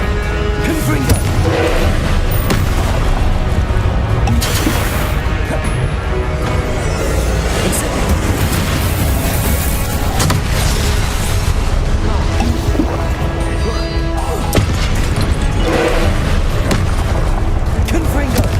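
Repeated Confringo blasting-spell explosions in Hogwarts Legacy, loud booming blasts with crackling bursts over dense, continuous combat noise, with voices calling out spells throughout.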